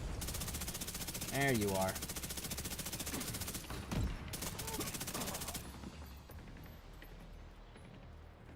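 Rapid sniper and automatic gunfire crackles through a firefight in the shooter game The Division 2, dense bursts running for several seconds and thinning toward the end, with someone talking briefly over the shots.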